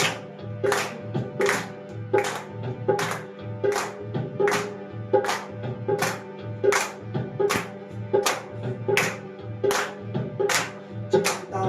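A congregation at a Friday prayer meeting claps in a steady, even beat, roughly one loud clap every second, with singing faintly underneath.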